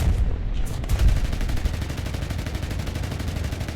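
Defensive machine guns on an American tier-one bomber in War Thunder fire a continuous, loud, rapid stream of shots that hammers on without pause for several seconds, with a voice faintly under the din.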